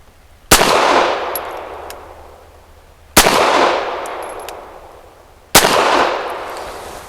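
Three loud, sharp pistol shots from a Walther PD380 firing PPU 94-grain hollow-point defensive rounds, spaced a few seconds apart outdoors, each with a long ringing decay and faint metallic pings of falling brass.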